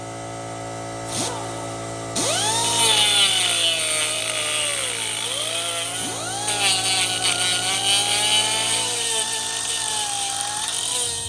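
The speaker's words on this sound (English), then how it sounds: "It does have like a welding, so I'm just gonna cut that weld part." Power tool grinding through a weld on a Honda Element swivel seat, a loud steady whine that rises and falls in pitch as the cut bites, running continuously for about nine seconds.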